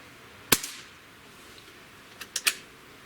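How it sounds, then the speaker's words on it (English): A Beeman QB78S CO2 air rifle fires one sharp, close crack, followed about two seconds later by a few quicker mechanical clicks of the action. "And shot number 3."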